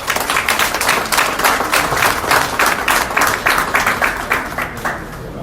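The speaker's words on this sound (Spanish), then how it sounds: "Otro aplauso para eso." Applause from members at a club assembly for the Emelec sports club, many hands clapping close and loud in a brisk rhythm that thins out toward the end.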